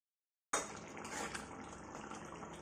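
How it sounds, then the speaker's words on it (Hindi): Water is poured into a pan of fried tomato and spice masala for a vegetable dish; after a brief silence a sudden sizzling splash sets in and continues as a steady, close bubbling hiss. "तो इसमें थोड़ा सा पानी हमने छोड़ दिया है"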